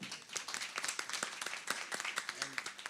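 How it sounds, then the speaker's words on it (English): A small audience at an MSME business conference claps in a quick, scattered burst of hand claps, moderately close, with some voices mixed in. "A round of applause, guys."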